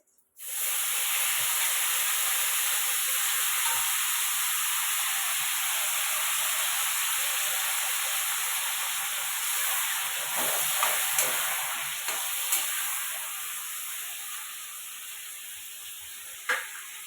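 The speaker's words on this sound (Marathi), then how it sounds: "जिरे टाकून वांग बटाटा असं परतून घेते" Eggplant and potato with cumin sautéing in a pan, a loud hissing sizzle that starts abruptly and holds steady, then thins out with occasional stirring clicks toward the end, close and without voices.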